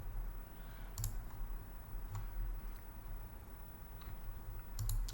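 A computer mouse clicks sharply a few times, faint and close, over a quiet room-tone background, with pauses of a second or more between clicks.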